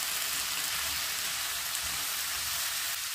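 Chopped radish and radish leaves fry over a high flame with a dense, even hiss like steady rain, and faint low stirring thumps sit beneath it.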